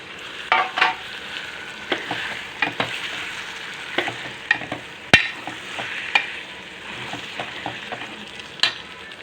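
Tomatoes fry in a pan for a cucumber-tomato curry while being stirred. A steady sizzle sits under repeated sharp clicks and scrapes of a spoon against the pan, close and fairly loud, with no talking.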